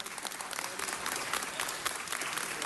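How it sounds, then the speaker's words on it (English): A city council meeting audience applauds steadily and fairly loudly, a dense wash of many hands clapping throughout a celebration honoring visitors from El Salvador. "Let's have a hand of applause for our friends from El Salvador"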